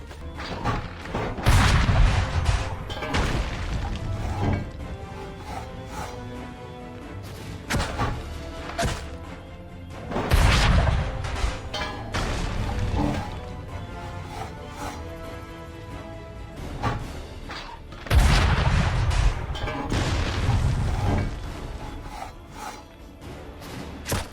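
Cannon fire in a Revolutionary-era battle in Assassin's Creed 3's Tyranny of King Washington DLC: three heavy booms spaced several seconds apart, each bursting over a constant wash of battle noise and score.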